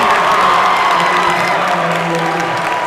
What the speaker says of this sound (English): And this crowd loves it.